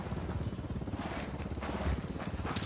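A helicopter in the shooter game Ghost Recon Wildlands gives off a steady low rotor thrum that holds at moderate loudness throughout, with no voices over it.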